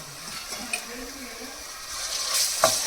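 Onions and ginger paste frying in oil for a coconut-masala broad bean curry, a continuous close sizzle with soft stirring scrapes and a brighter crackle toward the end, faint voice-like murmurs underneath.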